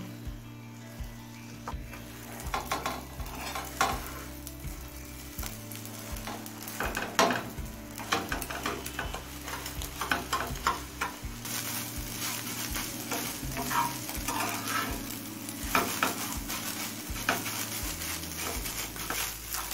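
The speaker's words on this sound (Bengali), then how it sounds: "তেল গরম হলে ফেটানো ডিমটা এবার দিয়ে দিচ্ছি। গ্যাসের ফ্লেমটা মিডিয়ামে রেখে ডিমটা ভেজে নেব।" Beaten egg fries in hot oil in a pan over a medium gas flame, a steady close sizzle with repeated scraping and tapping of a spatula throughout.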